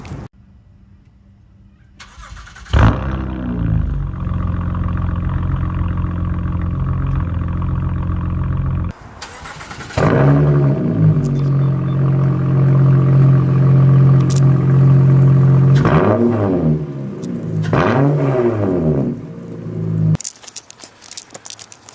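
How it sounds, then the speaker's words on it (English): A Honda or Acura car engine with an aftermarket J-pipe exhaust cranks and fires up, roaring then settling into a deep, rumbling idle; it shuts off and restarts with another throaty rev. "now that the J-pipe is installed, we're gonna start it up and see the difference."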